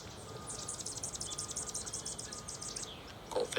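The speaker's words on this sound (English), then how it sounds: "Goldfinch, yellow-rumped." A goldfinch sings outdoors in a rapid series of high, bright chirps and twitters lasting about three seconds, faint against a low background hum and a steady insect-like buzz.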